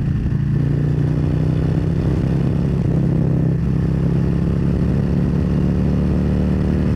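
Motorcycle engine pulling steadily in third gear at about 70 miles per hour, a constant droning hum with wind rush, no pauses or talk.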